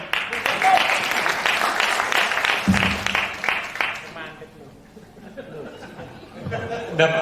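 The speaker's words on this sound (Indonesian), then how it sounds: "Tepuk tangan dulu." A church couples' gathering breaks into applause and chuckles for several seconds, the clapping fading out as laughter and murmured chatter carry on, then a voice speaks.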